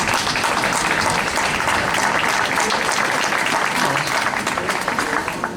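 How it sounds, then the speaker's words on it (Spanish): An audience at a popular tribute event honoring Benito Pérez Galdós breaks into full, steady applause. The sound is dense and loud, with many hands clapping throughout. "Un aplauso para Elena."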